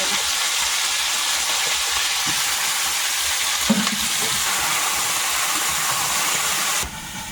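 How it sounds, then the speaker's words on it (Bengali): Cauliflower frying in hot oil in a wok over a wood-fired stove in a Sundarban home kitchen, giving a steady, loud sizzle and hiss that runs throughout, with occasional stirring knocks and no talk. "কড়াইতে এখন তেল দেবো। প্রথমে ফুলকপিটা ভাজবো।"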